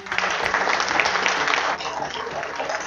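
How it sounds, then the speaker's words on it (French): An audience at a French school oral-presentation workshop applauds, a dense, loud wash of many hands clapping that runs throughout and eases slightly near the end. "Vous méritez des applaudissements."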